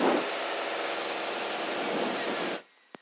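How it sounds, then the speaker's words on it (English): Light aircraft climbing out just after takeoff with its landing gear retracting: a loud, steady broadband engine and airflow roar holds for about two and a half seconds, then cuts off abruptly, followed by a single faint click. "I'm out of usable runway, so I'm putting the gear up."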